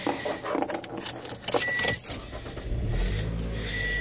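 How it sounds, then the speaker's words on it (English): A 2014 Scion xB is started from inside the cabin: keys jangle at the ignition, a chime sounds, then the engine catches and settles into a steady low idle close by, with no talking. "We're going to start the car up here."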